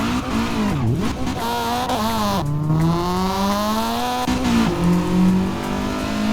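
A Honda Civic 1.6 engine revs in the driving game Assetto Corsa on a California highway traffic map, its pitch rising and dropping through gear changes in a continuous, loud drone with no talk over it.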